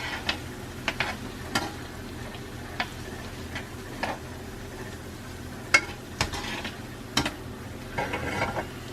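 Basil stirred into a sauce in a pan, quiet clicking taps of the utensil against the pan at irregular intervals over a faint low sizzle, no voices.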